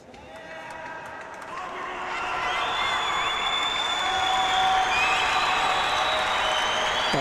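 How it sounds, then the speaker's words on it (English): A crowd at a karate competition in Cairo breaks into applause and cheering that builds over the first seconds and then holds at a loud, sustained level, filling the arena, with a few whistles rising above it. "A big shout from the whole crowd"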